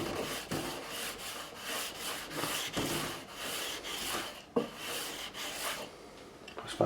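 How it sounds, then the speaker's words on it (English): Guitar frets on a Michael Kelly Patriot Premium are smoothed by hand with 400 grit sandpaper, a close, soft rasping scrape repeated in quick back-and-forth strokes, steady throughout and without talk. "I have a 400 grit just to smooth off, because I've done it with 240 grit"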